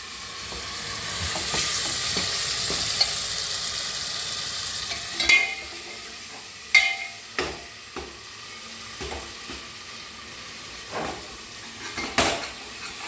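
A tomato frying in a pan for vegetable pulao gives a steady soft sizzle with occasional stirring scrapes and utensil clinks, close and continuous with no talk.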